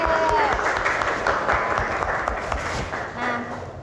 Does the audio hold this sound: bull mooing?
no